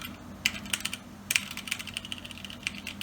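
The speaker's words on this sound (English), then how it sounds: "And finally, we have our Kensington number pad. Let's feel how the keys feel." Keys tapped one at a time on a Kensington ADB number pad with membrane or near-mechanical switches, giving close, crisp, irregular clicks over a quiet background with no talk.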